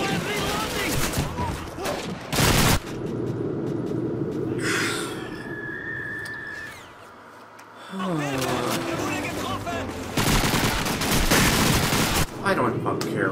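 Bursts of rapid gunfire from Call of Duty 2 run loud and dense, break off for a short lull, then start again. Someone talks over the shooting.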